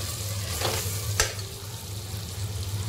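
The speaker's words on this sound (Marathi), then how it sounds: "त्याला आपण असं फ्राय करून देऊया" Whole spices and cardamom fry in oil for egg biryani. A steady, close sizzle runs over a low hum, with two brief stirring scrapes breaking through.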